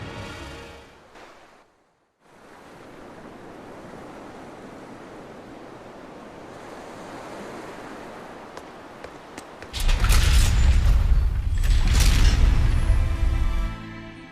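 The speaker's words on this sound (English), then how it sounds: "Wow, look outside! It's the ocean!" Ocean waves wash in the Tales of Berseria video game, a soft steady surf after a brief gap, then a louder crashing rush of water near the end.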